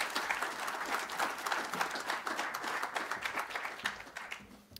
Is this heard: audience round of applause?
yes